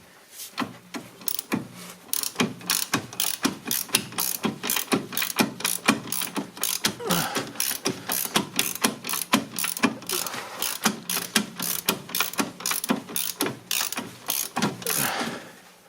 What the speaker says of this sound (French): On va desserrer le support avec du 18.